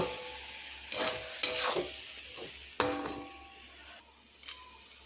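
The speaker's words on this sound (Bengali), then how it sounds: "তো একটু জল দেব একটু নাড়াচাড়া করতে থাকবো" Semolina upma with vegetables being stirred in a pan, a few distinct loud scrapes and clanks of a spoon against the pan over a faint simmering background, close and otherwise quiet.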